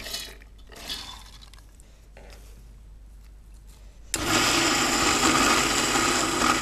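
Mixer grinder starts up abruptly partway through, a loud dense whirring roar as it grinds green gram with green chili, coconut, ginger and curry leaves, after a few seconds of quiet kitchen clatter.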